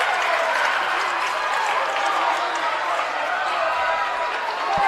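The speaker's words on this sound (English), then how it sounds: "Everyone cheering on as Tuncevic's serve goes over." Crowd cheering and clapping in a gym during a school volleyball match, a loud, dense, continuous roar that fills the whole stretch, with a sharp thump near the end.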